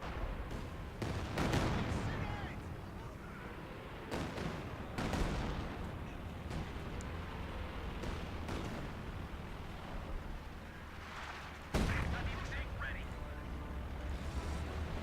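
Battlefield din from Company of Heroes 2 with Panzers and rocket barrages: repeated heavy artillery booms and bursts of gunfire, loud blasts every few seconds over a constant rumble, with someone talking throughout.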